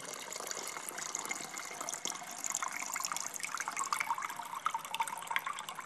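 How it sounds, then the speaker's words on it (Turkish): Water poured into a container fitted with electrodes for making hand sanitiser by electrolysis, a continuous close trickling and splashing stream with bright bubbling detail, steady throughout. "Suyu koyuyorum şimdi bunun içine."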